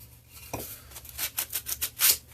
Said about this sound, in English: just tidying up the edges with a bit of sandpaper